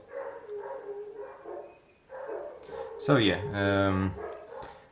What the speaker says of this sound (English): Sorry about the dogs there, not much I can do about that.